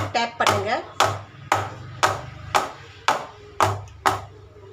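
A cake mold holding batter for a spicy cake is tapped on a surface about eight times in a steady rhythm, each tap sharp and near, with a brief voice at the start.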